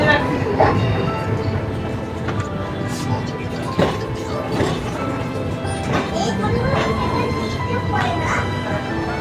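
The Teesta Torsa Express runs at full speed through a cold winter night between Malda Town and Samsi, its steady rumble punctuated by repeated sharp clacks and rattles from the wheels and carriages.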